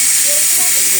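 Steam hisses loudly and steadily from lentils cooking in a pot on a gas stove in a village kitchen, a close, constant rush with faint tonal murmurs underneath.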